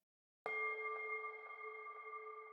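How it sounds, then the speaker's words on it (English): Bell-like ringing tones from a downloadable virtual wind chimes instrument start abruptly and sustain with a long, even reverb and delay tail, steady and clear with no voices. "I'm then including these little bell-like sounds that include kind of like a ringing out"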